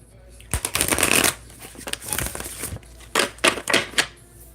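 A deck of cards is shuffled close by in several quick riffling bursts, each a crisp papery flutter, with brief gaps between them.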